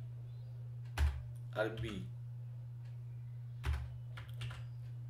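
A handful of sharp keystrokes on a computer keyboard sound alone and then under a person speaking Bengali, over a steady low electrical hum.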